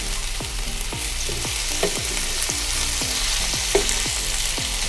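Pork frying in hot oil with garlic and onion, a steady loud sizzle with repeated scraping stirs of a utensil against the pan every half second or so, no voices.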